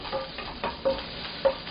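Carrot and radish are stir-fried for sweet and sour fish, with soft sizzling and a few quick scraping stirs in the pan, spaced at roughly regular intervals.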